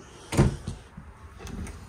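A big deep kitchen drawer in a 2024 Palomino SolAire 230FKBS travel trailer slides and shuts with a single near thud, followed by a couple of lighter knocks, with no talking.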